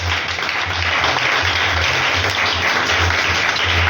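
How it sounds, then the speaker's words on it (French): A church congregation applauding loudly and continuously, a thick wash of clapping with a steady low rhythmic beat pulsing beneath it. "Acclame le Seigneur très fort."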